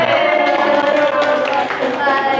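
A classroom group claps hands after a student group's presentation, a steady mid-level patter with voices talking over it.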